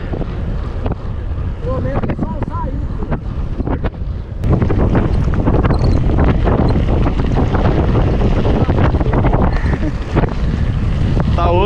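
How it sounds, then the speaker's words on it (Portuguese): Strong wind buffets the microphone during a long mountain bike ride on a trail, a loud, constant roaring rush that swells and gusts throughout, heard up close with no clear talk over it. "passa vento, bicho."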